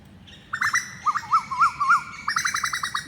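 Birds chirp in quick repeated trills, a clear bright call in a quiet outdoor setting with no one talking.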